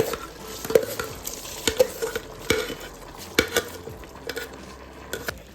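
Chicken biryani made with soaked ponni rice is stirred in a cooking pot, giving a steady run of scraping strokes and spoon knocks against the metal over a soft sizzle, close and fairly loud, with no voices.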